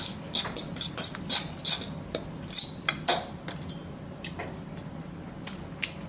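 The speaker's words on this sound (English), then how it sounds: "Put a little bit in, stir it around." Couscous being stirred with olive oil and garlic in a bowl for a turkey meatball dish, giving a quick run of light scraping clinks and soft squishes, then a few scattered taps trailing off into quiet.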